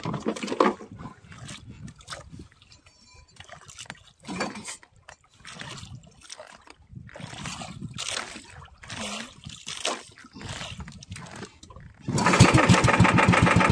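A small boat engine is started, first with intermittent mechanical clunks and pulls, then catching into a steady, loud running drone near the end.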